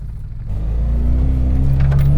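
Lada Niva engine floored in low-range gear, a loud low droning strain that climbs gradually and holds, no voices.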